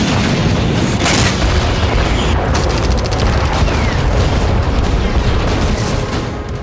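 Artillery explosions in Russia–Ukraine war footage: a loud, dense roar of booms and rumbling blasts runs without a break throughout, with sharper bursts rising above the din and no speech.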